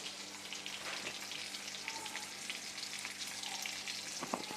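Sliced onion and cumin seeds fry in hot oil in a home kitchen, a steady soft sizzle and crackle with a few faint clinks, heard alone and fairly quiet.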